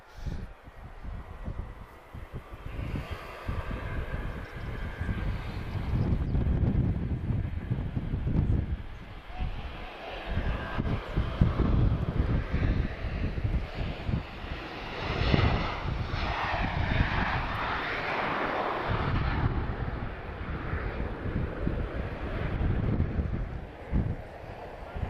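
A Ryanair airliner takes off at Lisbon Airport, a loud sustained jet engine roar that builds and holds for over twenty seconds, with wind buffeting the microphone throughout.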